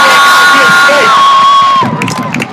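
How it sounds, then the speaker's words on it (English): Crowd cheering and whooping for a guest at an Ottawa event, loud and close, with a long sustained shout fading as the noise drops near the end. "give her a round of applause one more time"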